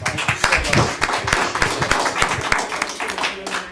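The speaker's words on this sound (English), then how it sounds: "Round of applause for her" Audience members at a city council meeting give a round of applause, moderately dense hand clapping with some chatter and voices mixed in, holding steady throughout.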